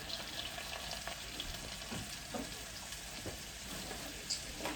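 Melted mixture with vanilla simmering in a pan for a peach bundt cake, a soft steady bubbling hiss with a few faint taps, quiet and close, no speech.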